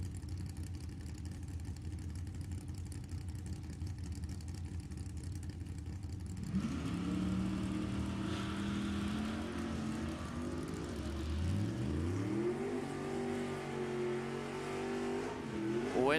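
An 83 Camaro and a 71 Ferrari Daytona in a drag race launch, heard first as a steady idle. Then the engines rev hard and pull away with rising, shifting tones, loud and close.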